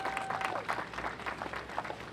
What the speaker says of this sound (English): we want to give a big round of applause to Cirque du Soleil for helping us kickstart that off.